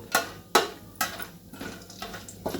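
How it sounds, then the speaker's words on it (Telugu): Spices such as cardamom being lightly fried in a pan for coconut rice, heard as sharp intermittent clinks and taps of a utensil against the pan, roughly every half second, with no talk. "సో ఇప్పుడు నేను ఇవి లైట్గా ఫ్రై చేస్తాను."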